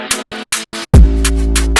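A rap vocal is chopped into rapid repeated slices, a UK drill stutter effect, before a deep booming bass hits under more clipped vocal fragments.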